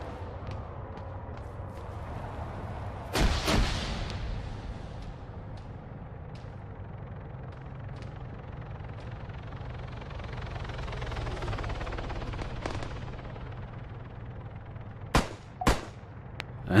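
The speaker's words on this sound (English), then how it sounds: "Trying to shoot the people inside the Ifrit through the windscreen." Gunfire aimed at an Ifrit armoured vehicle in the video game Arma 3: a few sharp, loud shots, one near the start and a quick pair near the end, over a constant low engine-like rumble.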